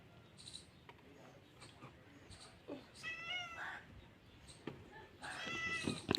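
A cat gives a few faint, short meows, spaced apart over low background noise.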